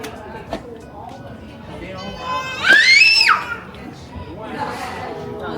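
A child lets out a loud, high-pitched scream lasting about a second amid chattering voices of children and adults nearby.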